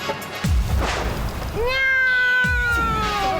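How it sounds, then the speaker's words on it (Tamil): A cat in a Motu Patlu cartoon meows twice, with long drawn-out wavering cries that are loud and near, after a low thump. "அட ஆமா, அந்த பூனையோட சத்தம் கேக்குது"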